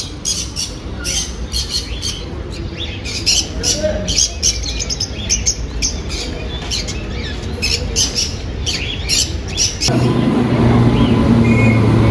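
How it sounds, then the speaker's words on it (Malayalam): Many parrots chirp and squawk busily in a constant chatter aboard a train, mixed with a rumbling background of the moving train. "ഒരു ചേട്ടൻ കുറേ പക്ഷികളെ കൊണ്ടുപോകുന്നുണ്ടോ? അതിൽ മൊത്തം മറ്റേ തത്തകളൊക്കെ, തത്ത"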